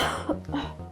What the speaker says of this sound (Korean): 마른 기침을 계속 하시네